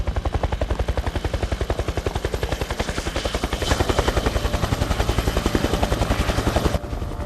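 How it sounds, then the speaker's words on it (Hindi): A loud, steady helicopter rotor thumping with rapid rhythmic chopping in a film scene, growing slightly louder midway and continuing throughout with no voices. "ये हेलीकॉप्टर्स की आवाज है।"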